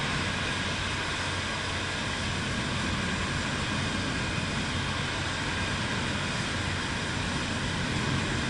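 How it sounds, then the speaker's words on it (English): Airplane engine in Microsoft Flight Simulator 2024 on PS5, a steady, loud, broadband roar and whine that fills the whole clip without change, with no voices. "We're coming up on a taxiing big plane."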